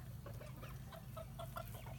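Chickens and roosters in a large outdoor yard cluck in a steady scatter of short calls, fairly close, over a constant low hum.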